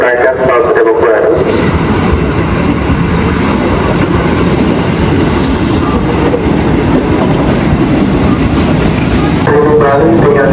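A commuter train departs Depok Baru station bound for Bogor, with a loud, steady rumble and rattle of carriages heard close by under a station announcement.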